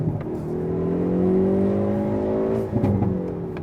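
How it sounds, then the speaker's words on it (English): A 2019 Hyundai Veloster N with dual exhaust pipes revs up, its engine note climbing smoothly in pitch and holding loud and close, then dropping off and picking back up with a rough burble near the end. "We have to talk about the exhaust."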